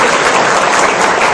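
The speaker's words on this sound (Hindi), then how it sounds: "ताली बजाओ मेरी।" An audience at a spiritual gathering claps together in a loud, dense burst of applause lasting just over a second, with no voices on top.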